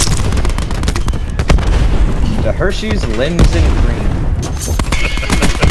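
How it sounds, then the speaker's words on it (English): Heavy explosions and rapid gunfire in a Call of Duty Black Ops 4 multiplayer deathmatch, loud and continuous with sharp booms throughout, while someone talks over the action. "Holy shit, that's a lot of explosions over there."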